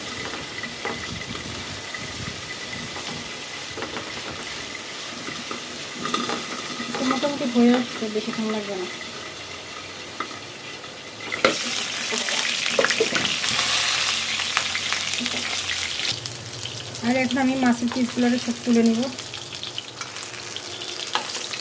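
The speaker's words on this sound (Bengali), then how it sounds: "এটা তেলের উপরে ভাজি হচ্ছে" Katla fish pieces and potatoes frying in oil in a kadai, a steady sizzle with stirring scrapes throughout, while someone talks over it at close range.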